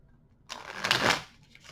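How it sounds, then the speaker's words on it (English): A deck of tarot cards being shuffled by hand in one quick riffling burst that swells and fades within about a second, fairly close and alone. "I'll do a few shuffles for you here on camera."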